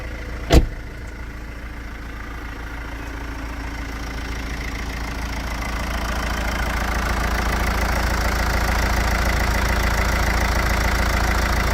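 A Mercedes E200 BlueTec diesel engine idles after a cold start, a steady low hum with no rattle that slowly swells a little louder over the stretch, broken once near the start by a sharp click.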